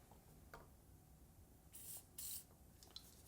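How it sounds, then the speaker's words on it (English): Cleaner is sprayed on a Remington 7600 rifle bolt in two short, close hissing bursts, with faint rubbing and handling noises around them at a very low level. "And then I'm going to try to get it with some spray."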